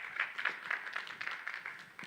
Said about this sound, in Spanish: Un aplauso fuerte para él, por favor.